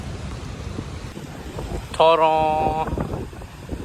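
Strong wind during Hurricane Milton in Florida roars and buffets the microphone outdoors, with a brief tonal horn-like blare partway through and a person speaking briefly over the gusts.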